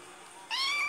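A single short cat meow in a Minecraft-like video game rises clearly out of a quiet background, close and fairly loud.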